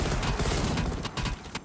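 Rapid gunfire in Call of Duty Cold War Zombies, Outbreak mode, a loud dense burst of shots that runs continuously for under two seconds with a brief dip near the end.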